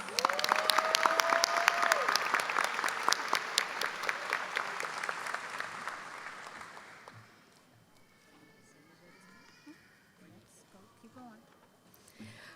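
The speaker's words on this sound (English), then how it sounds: "Let's give ourselves a round of applause." Graduation audience at a high school ceremony claps loudly in a dense burst with some cheering, then the applause fades away over several seconds to a quiet room.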